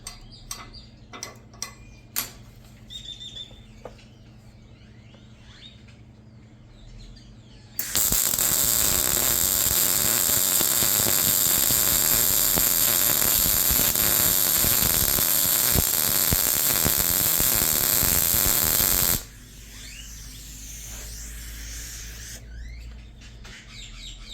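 A Sefaspe Mig205DS MIG welder lays a short bead on 3/16-inch steel plate at 19.6 volts, giving a loud, steady crackling buzz that runs for about ten seconds. Quiet clicks and shuffling come before and after it.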